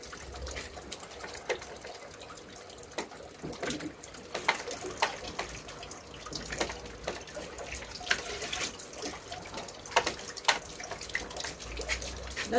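Collected rainwater runs and splashes steadily into a container nearby, with a continuous gurgling rush.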